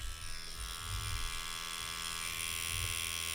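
A Neuma 4 tattoo machine with a 4.2 mm stroke and an ultralight bearing runs in a continuous, even electric buzz with a low hum underneath, steady and close, with no voices.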